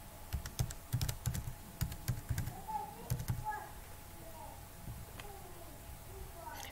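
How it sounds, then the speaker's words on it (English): Clusters of quick computer keyboard keystrokes as a username and password are typed into a login page, close and crisp in short bursts, then fading into quieter scattered taps. "So I'll type in my username and my chosen password."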